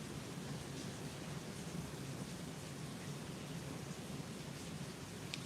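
Rain falls steadily in the background as a soft, even hiss with no breaks, faint and distant throughout, with no one speaking.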